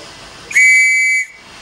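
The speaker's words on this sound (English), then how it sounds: "And the RIC had their own model of whistle that was made by Jay Hudson" An antique Royal Irish Constabulary police whistle made by J Hudson in England is blown once, a loud, piercing, steady shrill tone lasting under a second, close and alone.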